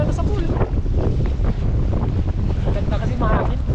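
Strong sea wind buffets a boat's microphone, a loud, rough rushing roar that surges and dips across the few seconds with no clear break.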